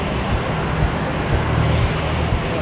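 An airplane near the airport gives off a steady, loud, broadband engine roar that fills the whole stretch evenly, close by, with no voices.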